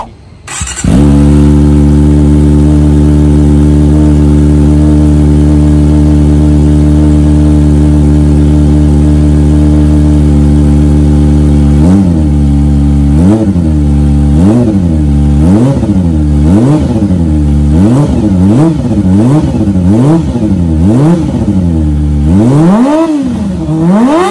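A Kawasaki ZX25R motorcycle engine after an oil change holds a loud, steady, high-pitched idle close by for about eleven seconds, then is blipped through a quick series of sharp revs that rise and fall, ending in a higher rev.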